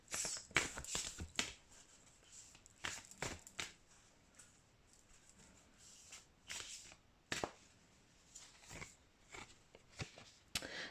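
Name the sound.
shuffling a deck of mermaid tarot cards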